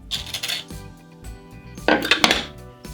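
Fresh ginger rubbed against a very hard sharkskin grater, giving bursts of scraping, clinking friction in two separate passes with a short pause between, close and fairly loud with no voices.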